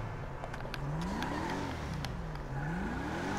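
A car engine in GTA 5 revs up and down in smooth rising and falling sweeps, with a steady drone underneath and a few light clicks.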